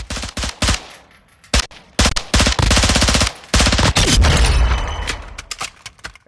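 Bursts of MP7A2 submachine gun fire in Call of Duty Modern Warfare II ring out loud and close, several rapid automatic strings broken by short pauses, with no voices.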